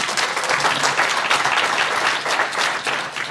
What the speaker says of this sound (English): So give a round of applause for Tanya, please.